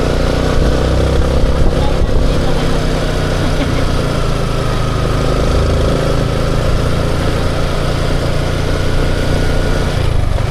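A motorcycle engine runs steadily up close for the whole stretch, a continuous throaty idle with a slight throttle-cleaning fault noted, and no voices over it.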